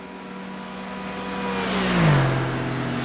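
A race car in a collegiate sportscar race at Le Mans, heading toward the Mulsanne Straight, its engine note rising to a loud, close pass and then falling in pitch, with a steady engine drone throughout.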